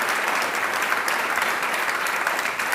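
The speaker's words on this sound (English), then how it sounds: "I think we should all give a round of applause to Minister Fajon" An audience at an EU conference gives a round of applause for a minister, dense, even clapping that fills the room and holds steady throughout.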